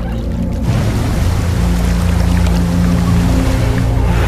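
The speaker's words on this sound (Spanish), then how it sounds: "Este potro de cebra, nada tan rápido como sus pezuñas pueden llevarlo a través del río Mara" A zebra foal swims hard across the Mara River, a loud continuous churning of splashing water with a low rumbling wash throughout, close and unbroken.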